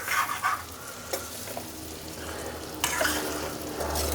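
Amla and green chillies roast in hot oil in a pan over a full gas flame while pickle is made, giving a steady close sizzle broken by a few louder stirring scrapes, with no talking.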